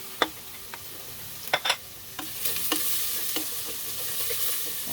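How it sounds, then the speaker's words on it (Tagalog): Garlic, ginger and onions sautéing in oil, a sizzle that swells louder partway through, with sharp clicks and scrapes of a utensil stirring in the pan nearby and no voices. "magsaute tayo ng garlic, ginger, and onions"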